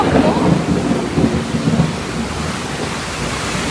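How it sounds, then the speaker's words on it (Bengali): A thunderstorm with heavy rain during a drama shoot, a loud dense roar of rainfall with deep rolling thunder rumble strongest early and easing into steady downpour. "হয়তো বা কিছুক্ষণের মধ্যেই ঝড় বৃষ্টি থেমে যাবে"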